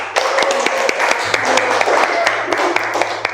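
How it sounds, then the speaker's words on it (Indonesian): Classroom applause from a group of students, a brisk patter of hand claps lasting a few seconds, moderately close with sharp individual claps standing out. "Beri tepuk tangan untuk kita semua."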